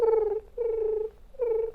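A human voice imitates a tribble's purr with three sustained humming trills separated by short pauses, close and fairly loud with no other sounds.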